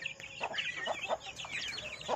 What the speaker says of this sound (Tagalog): ay mga manok, ay mga sisiw, oh, nagkakagulo na sila